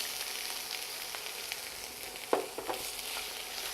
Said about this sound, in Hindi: मिर्ची ने अदरक ने इन साथ अच्छी तरह भून डाला।